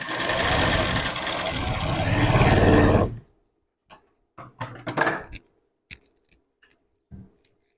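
A sewing machine runs steadily for about three seconds while stitching tucks on a blouse, a loud close whirring rattle. It then stops and gives way to scattered light clicks and taps as the fabric is handled.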